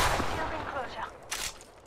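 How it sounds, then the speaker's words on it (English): Weapons fire in the battle royale game Apex Legends, a short loud burst of shots that dies down, then a brief sharp crack near the end. "Shots fired, and they're hit."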